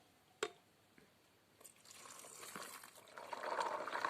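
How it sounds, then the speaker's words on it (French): Lukewarm water poured into a box of pea seeds, starting with a couple of soft knocks, then building into a steady trickling pour that grows louder toward the end. "je vais remettre de l'eau tiède dedans."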